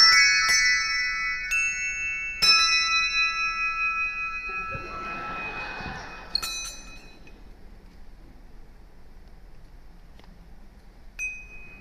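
Handbells rung four in hand by a solo handbell ringer in concert, several bright, ringing strikes with long sustained tones decaying between them, then a softer clatter and a few later isolated chimes.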